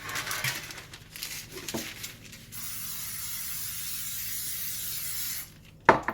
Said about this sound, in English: you just kind of want to lightly spray each of your pieces of parchment paper or baking paper